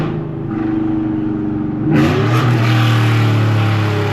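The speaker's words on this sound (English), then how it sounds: "Listen how aggressive these rev matches are." A GMC Sierra truck with a 5.3 V8 revs hard in aggressive rev matches. A low rumble swells into a loud, sustained roar after about two seconds, close by and with no talking.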